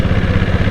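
A 7.5 HP diesel Bullet motorcycle engine idles close by, a loud, steady low thumping clatter with an even rapid pulse over a short burst.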